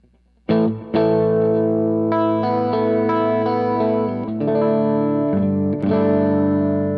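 Electric guitar in a clean, undistorted tone with a Joyo Vintage Overdrive pedal off plays a few sustained chords up close, each left to ring, with no one talking.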